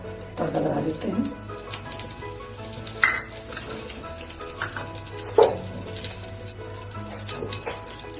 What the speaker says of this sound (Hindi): अब हम तड़का लगा देते हैं।